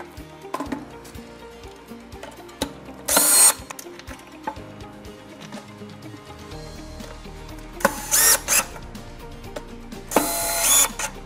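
Screws are driven in while fitting a Blum Aventos HF top lift mechanism, with three short loud bursts of a power screwdriver whirring amid quieter clicks and handling noises, close up and with no speech.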